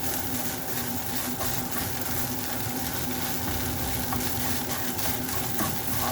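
Chorizo, eggs and hash browns fry in a pan with a dense, constant sizzle, close and steady, with faint scrapes of stirring through it.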